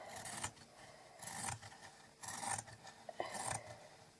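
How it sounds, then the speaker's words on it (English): Four rhythmic rasping snips of scissors chewing through fabric, quiet and close, evenly spaced about a second apart. "I'll use the pinking scissors and trim along here."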